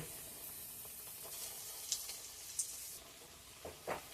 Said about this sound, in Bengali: এইভাবে আমি সব কটা কোপ্তা ভেজে নেব।